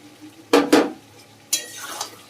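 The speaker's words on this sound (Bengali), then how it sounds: "তো এই পর্যায়ে আমি অ্যাড করে দিচ্ছি ভেজে রাখা আলুগুলোকে" Fried potatoes tipped into a pan of lamb curry and stirred, two close heavy thuds of pieces dropping in, then a scraping stir of the spatula against the pan with a faint sizzle.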